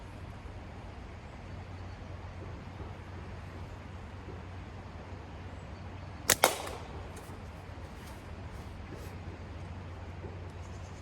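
Quiet outdoor ambience with a faint hum, broken by a sharp snap and metallic clank as a black-band slingshot shot strikes a can, followed by a few faint knocks.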